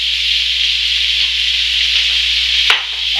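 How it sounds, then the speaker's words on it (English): Beef and sliced onion sizzle steadily in a pan with melted butter, a continuous close hiss with a brief clatter near the end. "we will simply add our beef carefully, and we add our sliced onion"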